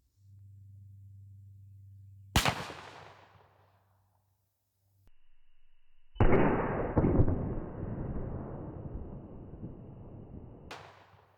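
A shotgun with a short 18.5-inch barrel fires TSS #6 shot into stacked wood blocks, producing a sharp, loud blast that decays quickly, followed later by a stretch of broadband noise and another abrupt crack.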